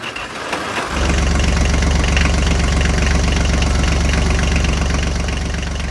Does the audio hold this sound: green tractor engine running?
yes